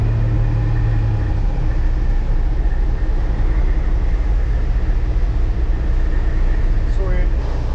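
Loud, steady low rumble of a heavy BNSF freight train rolling past nearby, continuous throughout with a brief high squeal of wheels near the end.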